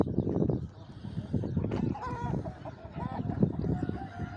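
Chickens call at a busy poultry market in Sungurlu, Çorum: several clucks and drawn-out squawks rise over a dense, continuous crowd and market din.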